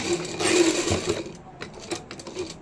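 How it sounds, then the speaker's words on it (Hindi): A sewing machine stitches a kameez lining, its steady mechanical whir running close and loud before breaking into shorter, uneven bursts of stitching. "तो इसलिए पहले इस पर सिलाई लगा देते हैं"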